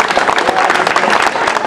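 Audience applause at a 2006 village fair concert in Terheijden: a brief, steady burst of dense clapping from a crowd, fairly loud and close, with no voices on top.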